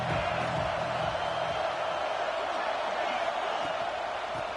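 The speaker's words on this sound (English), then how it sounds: "This crowd bringing the energy and noise early." Stadium crowd in the College Football 26 video game keeps up a steady, dense roar for the whole stretch, loud and unbroken with no single cheer standing out.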